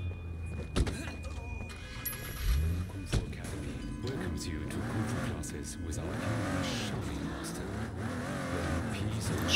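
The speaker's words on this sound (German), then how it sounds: "Nissan Skyline." Nissan Skyline driving in the open-world game Sleeping Dogs, engine humming and rising in pitch as it accelerates, with a few sharp knocks early on and game sounds mixed in, moderately loud throughout.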